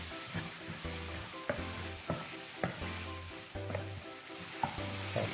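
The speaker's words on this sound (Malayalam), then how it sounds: "ഇത് നന്നായിട്ടൊന്ന് മിക്സ് ചെയ്ത് സവാളയൊക്കെ നന്നായിട്ടൊന്ന് വഴറ്റിയെടുക്കണം." Chopped onions with a little salt sizzle steadily in a pan for a creamy chicken curry, with a spoon scraping and stirring in regular, close strokes throughout.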